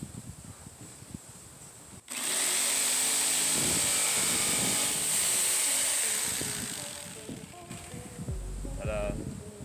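Jigsaw cutting a wooden Hellcat sign in a garage, a loud steady buzzing roar that starts abruptly and runs for several seconds before easing off, with brief quieter handling noise at either end.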